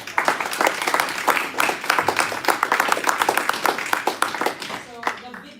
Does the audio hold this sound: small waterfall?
no